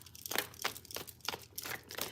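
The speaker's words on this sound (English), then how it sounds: "as I'm shuffling for Aries" A tarot deck being shuffled by hand in a quiet room, with soft rhythmic riffles and crinkly card bursts about every third of a second, close and gentle, with no talking.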